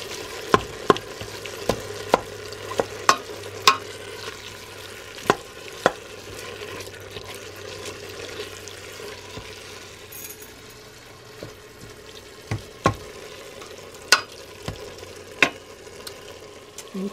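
Ground beef for hamburger soup cooks in a pot with a low steady sizzle, punctuated by frequent sharp metallic clinks and scrapes of a utensil against the pot, near and moderately quiet.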